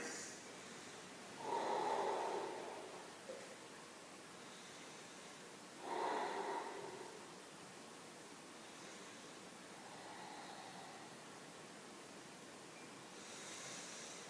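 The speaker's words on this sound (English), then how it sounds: "Three more breaths." Slow, deep breaths during a beginner yoga flow, two broad exhale swells a few seconds apart with a softer third one later, close and steady over quiet room hiss.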